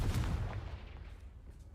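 A Confringo fire spell blast from the video game Hogwarts Legacy bursts loudly at the start and then decays into a rumbling, crackling tail.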